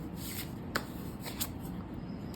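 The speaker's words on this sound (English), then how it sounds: "I'm going to shuffle 2 on camera." A deck of tarot cards shuffled by hand at close range, a soft continuous riffle and shuffle with a few sharper card snaps standing out, quiet and steady with no voices.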